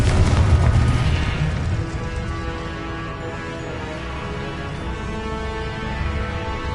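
A spell blast from the Confringo explosive spell in the Hogwarts Legacy video game, a loud booming burst up front that decays into a long, rumbling, ringing tail with a faint musical hum underneath.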